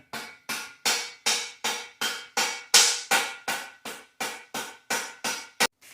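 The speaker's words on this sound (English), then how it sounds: "you're just going to start hammering it in" A steady series of about fourteen firm mallet blows hammering a bottom bracket bearing into a BMX bike frame, evenly spaced and close, each thud ringing briefly before the next, with no voices.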